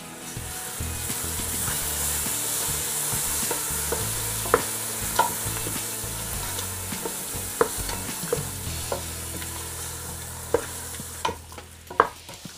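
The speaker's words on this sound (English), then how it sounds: "So give it a mix." Ground chili masala being stirred and fried in a pan for a Madras-style crab curry, with a steady, continuous sizzle and hiss and repeated scraping clicks of the spoon throughout.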